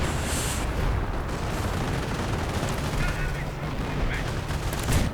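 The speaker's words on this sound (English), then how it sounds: "I do think I hear artillery" Dense, continuous battlefield gunfire and booming artillery in a WWII strategy game with tank destroyers and grenadiers, a steady loud wash of shots and rumbling blasts lasting throughout.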